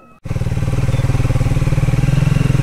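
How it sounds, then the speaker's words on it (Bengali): A motorcycle starts moving onto a rough road in Gufapatal, Nepal, its engine chugging loud and close with a steady pulsing rhythm after a brief quiet start. "এই রাস্তা দিয়ে সোজা এখন বাইক নিয়ে ঢুকবো"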